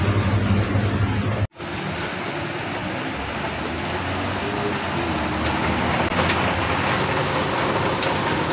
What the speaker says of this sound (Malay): Jom kita tengok hujan.